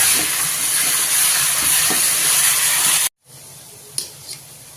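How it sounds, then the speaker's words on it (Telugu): Ginger garlic paste sizzles and fries in a pan while being stirred, a loud steady hiss that cuts out abruptly, followed by quieter clatter and a couple of faint clicks. "రెండు స్పూన్లు అల్లం వెల్లుల్లి పేస్ట్ చేసుకున్నాం బాగా తిప్పుకుంటున్నాను"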